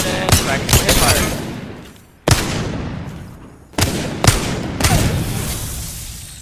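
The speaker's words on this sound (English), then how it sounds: "And then practice my hip fire." Hip-fire gunshots in the Apex Legends firing range crack out as several sharp bursts and single shots, each cutting off with a decaying echo between volleys.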